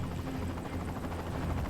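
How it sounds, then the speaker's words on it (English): Helicopter in the Xbox 360 game 007 Quantum of Solace, a steady dense rotor drone with rapid low-frequency chopping, loud and constant throughout with no talk over it. "Oh, that's a helicopter."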